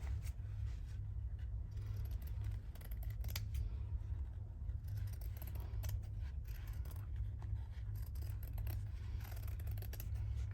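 Scissors cut through vintage embroidered tablecloth fabric, a steady series of close, crisp snips and blade scrapes over a low constant hum, with no talking.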